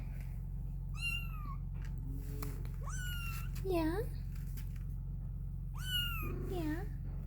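Four-week-old farm kittens give several high, thin meows, close by and spaced apart, over a steady low hum, while a person briefly speaks.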